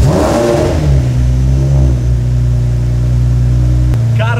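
A Lamborghini SV sports car engine revs hard from inside the cabin, a loud, close bark that settles into a steady, deep idle drone, heard alone.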